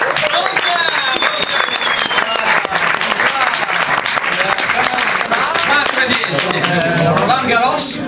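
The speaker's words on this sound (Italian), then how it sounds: "un calorosissimo applauso per Monsieur Cochon de Porc" A lively audience gives warm, loud applause for a guest introduced as a French chef, dense continuous clapping with whoops and cheering voices mixed in, full and close throughout.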